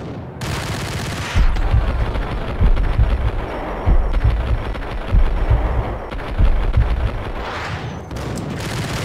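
Rapid gunfire and booming shots from the PC shooter Max Payne during a slow-motion bullet-time dive, loud bursts repeating in an uneven rhythm over a dense game soundtrack.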